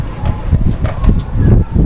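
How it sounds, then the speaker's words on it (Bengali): Strong wind gusting outdoors on the way from a village to the city, buffeting the microphone in loud, uneven rushes throughout. "পরিমাণে বাতাস হচ্ছে বাতাসে মনে বয়ে নিয়ে যাবে"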